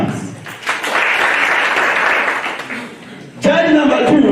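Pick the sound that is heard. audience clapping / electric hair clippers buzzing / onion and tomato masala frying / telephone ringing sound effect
audience clapping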